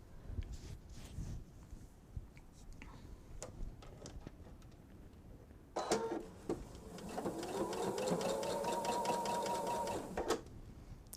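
Sewing machine stitching fabric for a bench pillow, a steady whirring run of several seconds after a few light clicks and handling sounds, fairly close and alone.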